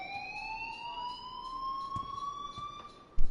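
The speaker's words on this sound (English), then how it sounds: "please turn off that alarm since that's your job" An alarm rings in the video game Life is Strange: a continuous electronic tone with a faint bright overtone climbs slowly in pitch. A few soft clicks sound, and a sharp thump lands at the end.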